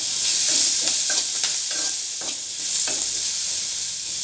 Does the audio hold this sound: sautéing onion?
yes